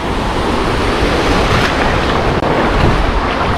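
Sea waves and surf pound the shore at Anapa during a small storm, a loud continuous roar of breaking water mixed with gusty wind buffeting the microphone, with no voices.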